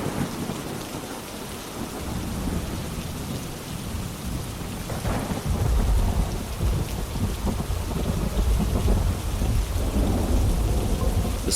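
Heavy night rain pours steadily while deep thunder rumbles and swells, growing louder midway and staying close and full, with no voices.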